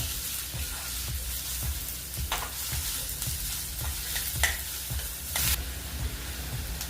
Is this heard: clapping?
no